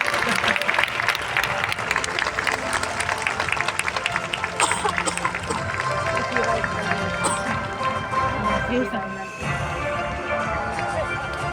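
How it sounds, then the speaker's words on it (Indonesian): Loud, dense applause from a large seminar audience, with crowd noise mixed in, continuing steadily before easing off near the end. "Sekali lagi mari kita berikan tepuk tangan."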